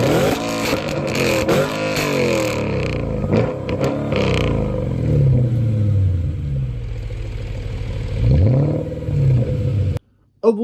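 Naturally aspirated 4.2 litre V8 in an estate car revving hard, loud rising and falling engine sweeps with shifts and a rumbling drop, ending abruptly in near silence.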